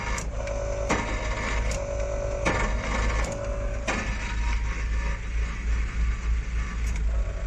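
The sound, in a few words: Iveco vehicle engine cranking but failing to start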